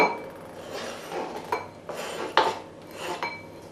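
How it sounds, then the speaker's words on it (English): Chopped spring onions are tipped into a small bowl, giving a few light knocks and clinks of a utensil against the dish, close and fairly quiet, with short gaps between them. "you just put them into a little bowl"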